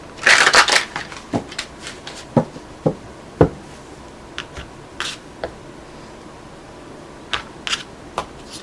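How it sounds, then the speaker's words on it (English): Crisp rustling bursts of cards being shuffled, a dense flurry at first, then scattered single snaps and taps spaced apart, close and fairly quiet. "One more shuffle."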